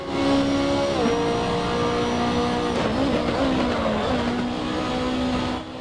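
Race car in an online racing video game, its engine droning loudly at high revs with pitch shifts as it shifts gears and brakes, plus a burst of tire squeal midway.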